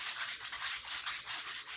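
A ceiling fan is sanded by hand, a close, rhythmic back-and-forth rasping of strokes repeating steadily, with no talk.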